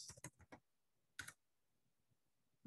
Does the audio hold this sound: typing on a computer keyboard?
yes